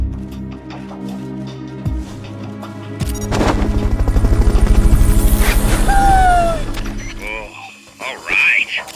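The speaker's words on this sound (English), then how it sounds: "Fulton recovery helicopter is complete." Helicopter in Metal Gear Solid Peace Walker, a loud rhythmic rotor chop that swells to a peak and then fades, mixed with mechanical clanks and game sound effects.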